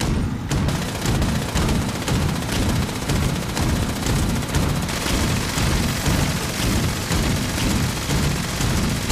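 Sustained gunfire in the video game Fallout 76: a dense, loud fusillade of rapid shots and booms, continuous and close for nine seconds, with no clear speech.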